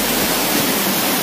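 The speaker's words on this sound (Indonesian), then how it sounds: "Let's go, kita ke air terjun kedua" The Coban Tarsan waterfall near Malang rushes in a dense, steady roar of falling water, loud and close, with no break or other sound.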